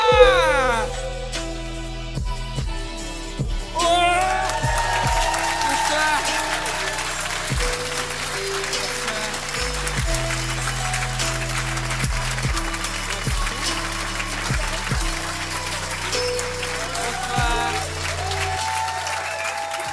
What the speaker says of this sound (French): Gardez vos applaudissements pour la fin parce qu'on n'est pas sûr que ce soit cool